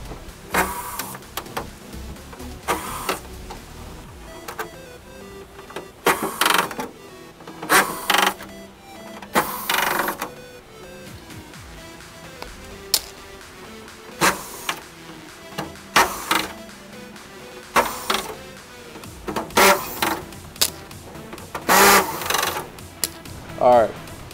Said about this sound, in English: So I'm going to begin to remove the trailing edge screws on the top and bottom.